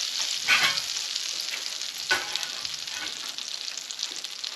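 Onions and peppers fry in a pan for a steak sandwich, a steady close crackling sizzle with a couple of brief louder stirring scrapes, no voices.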